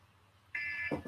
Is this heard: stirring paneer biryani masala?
no